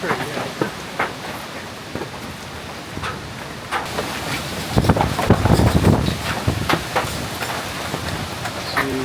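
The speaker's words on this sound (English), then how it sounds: "we were not prepared for that rain. It's absolutely ridiculous." Heavy rain pours down at a mobile pizza stall, a dense steady hiss with wind buffeting the microphone and louder bursts of drumming partway through, while people talk faintly underneath.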